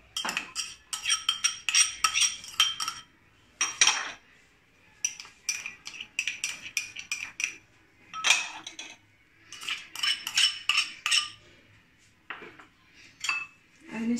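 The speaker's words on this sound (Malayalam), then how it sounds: "സാലഡ് കുക്കുംബർ ഇപ്പോൾ ഒരു ബൗളിലേക്ക് ഇട്ട് കൊടുക്കാം" Chopped salad cucumber goes into a bowl for a mixed vegetable salad, with bursts of sharp clinks and scrapes of a utensil against the dish, separated by short pauses, close and fairly quiet with no talking.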